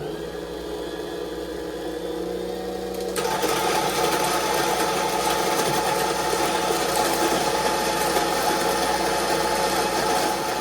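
A coffee grinder with 64mm flat burrs runs steadily, a loud continuous mechanical whir that rises in intensity partway through as the burrs begin grinding beans, then holds a constant dense drone.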